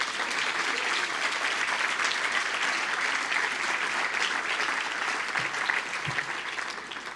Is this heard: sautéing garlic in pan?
no